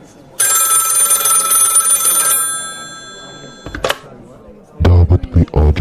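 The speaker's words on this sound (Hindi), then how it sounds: "फोन की घंटी बजी।" A bright, loud telephone bell rings continuously for about two seconds and then stops, followed by a brief clunk and a voice speaking.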